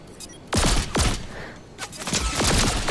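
Lock-on pistol gunfire in Fortnite, loud sharp cracks coming in spaced pairs and then a rapid cluster of shots near the end, over a constant game background.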